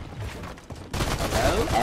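Turret gunfire and explosive blasts in Fortnite, with a War Machine skin in play: quieter scattered shots, then a sudden loud, continuous barrage in the second half, with voices mixed in.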